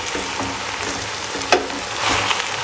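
Fresh green beans and chopped tomatoes sizzle in a hot pan with tomato paste as a spoon stirs them, a steady close frying hiss with a few sharper scraping clicks and pops.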